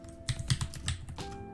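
Code being typed on a computer keyboard, heard as a quick, close run of light clicking keystrokes in an uneven rhythm with a brief pause near the end.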